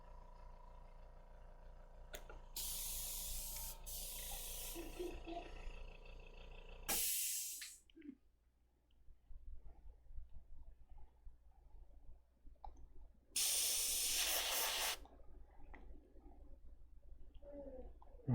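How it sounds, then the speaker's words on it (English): An airbrush sprays paint on a Thanos figure with a clogged bottle causing backdraft, giving loud hissing bursts with pauses and some quieter handling noise between them. "Oh, this airbrush is getting backdraft."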